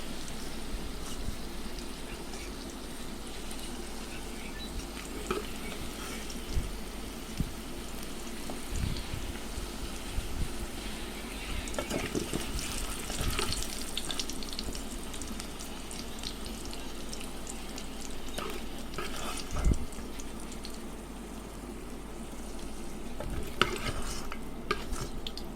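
Food frying in a pan, likely eggs, with a continuous low sizzle and frequent scraping stirs, close up and steady throughout with occasional louder clatters, no talking.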